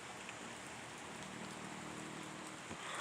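Steady rain falls outside a balcony, a soft, even hiss of drops with occasional nearer patters, continuous and fairly quiet with no voices.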